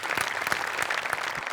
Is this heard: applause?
yes